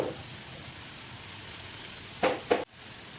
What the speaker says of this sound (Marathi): पहा आता आपण दुसरी बॅच तळून घेऊ